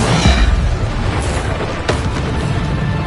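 A Bombarda explosion spell in Hogwarts Legacy lands as a heavy boom at the start, followed by a sharp crack and lingering rumbling game noise, loud and close.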